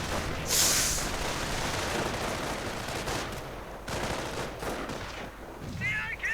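Heavy machine gun bursts and scattered rifle fire crackle across a World War II strategy game battle with Panther tanks and Panzer grenadiers, dense rapid volleys with a sharp burst near the start and a commentator talking over it.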